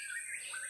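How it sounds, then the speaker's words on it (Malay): A brief, high-pitched bird call whistles faintly from a distance in a freshwater swamp forest, a short rising and falling tweet against quiet background. "Bunyi burung ni."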